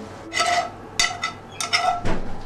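Metal utensils clanging and scraping against a pan while meat and noodles for pad thai are tossed together, several bursts of sharp clinks and rattles with short pauses between them.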